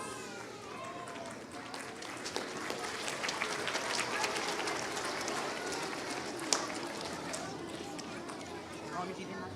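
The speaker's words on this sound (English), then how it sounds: "Give yourselves a round of applause." A school assembly audience claps in a dense, steady round of applause lasting several seconds, with voices mixed in underneath.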